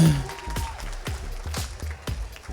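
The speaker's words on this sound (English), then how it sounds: "Give a round of applause, JM." Wedding guests give a short, lively round of applause at a reception during the speeches, a dense burst of clapping close by with a few sharp individual claps.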